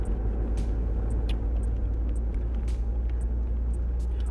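Interior of a 2001 Audi TT Mk1 driving on the road: a steady, heavy low engine and road rumble fills the cabin continuously, with faint occasional clicks and rattles above it.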